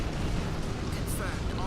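Rocket explosions in Armored Core: For Answer, a dense continuous roar of blasts and rumble throughout a short stretch, with someone talking over it.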